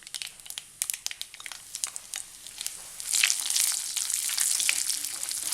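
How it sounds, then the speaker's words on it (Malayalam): Coconut pieces frying in hot coconut oil with mustard seeds, giving sharp crackling pops at first, then a denser, steady sizzle building up near and loud, with no talking. "തേങ്ങാക്കൊത്ത് മൂത്തിട്ടുണ്ട്."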